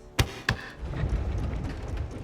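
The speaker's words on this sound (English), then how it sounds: "Infernal engine for a heart." Karlach's infernal engine heart in Baldur's Gate 3 gives two heavy, close thumps about a third of a second apart, followed by a low, rumbling mechanical hum.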